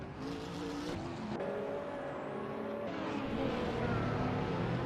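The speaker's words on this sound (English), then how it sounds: "watching these supercars tearing up the track is always an exhilarating experience" Hypercars racing at Spa in a video game, engines whining and shifting pitch as they accelerate and pass in succession, a continuous layered roar with sudden gear changes and no voices.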